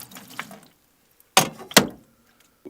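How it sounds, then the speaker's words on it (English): Vinegar splashes from a container over metal gas pump signs lying in a tub, heard as a soft trickle followed by two short, close pouring bursts. "get some of your vinegar and pour it over the signs"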